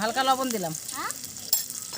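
Loita greens stirred and frying in mustard oil with chopped green chili, garlic and onion give off a steady sizzle, with brief scraping stirs, while someone speaks over the pan.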